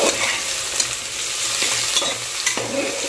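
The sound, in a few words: potatoes and onions frying in a pan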